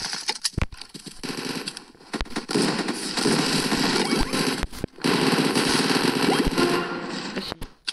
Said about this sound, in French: Une arme qui spam. Donc, c'est une PM.